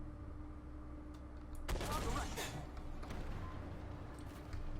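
A Sheridan light tank's main gun fires in the Armored Warfare video game, a loud broadband blast with a lingering rumble tail heard over steady engine drone.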